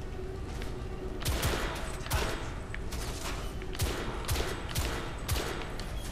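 Rifle gunfire in The Order: 1886, a run of sharp shots fired every second or so, loud and close over a constant noisy battle backdrop.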